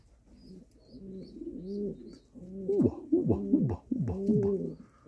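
Pigeons cooing repeatedly in a fancier's loft, their low rolling calls rising and falling in overlapping bursts at close range, with no talk over them.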